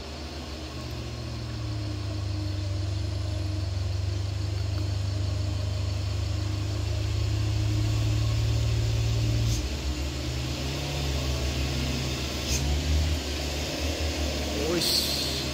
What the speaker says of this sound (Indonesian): di sana truk kolisel sudah melaju bosku